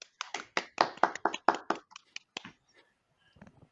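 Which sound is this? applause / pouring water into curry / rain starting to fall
applause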